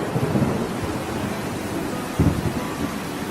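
A thunderstorm with steady heavy rain, heard as a dense hiss with low rolling thunder rumbles, including a sharper thump near the end, loud and with no voices.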